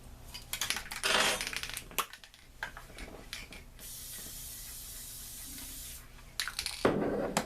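Adhesive spray hissing from an aerosol can onto a small Cricut-cut product tag, with a steady broadband hiss lasting a few seconds between brief handling clatters and taps, close up.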